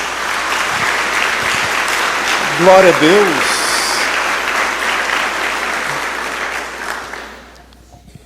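Worshippers at a church service break into a round of applause for Jesus, loud dense clapping that carries on for several seconds with a voice speaking over it, then fades away near the end.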